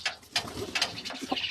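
Giribaz flying pigeons cooing close by in a home loft, several soft throaty coos in quick succession, fairly quiet and with no talk.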